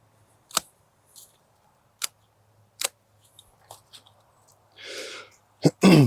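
Pruning shears cut through rose stems with sharp, isolated snips spaced a second or so apart, close and crisp, with a rustle of foliage and a brief word near the end.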